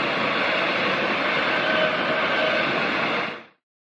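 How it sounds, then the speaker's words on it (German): A long-distance train rushes past at a level crossing, a loud steady roar of rolling wagons lasting about three seconds before cutting off abruptly. "Ein Fernzug fährt wieder durch."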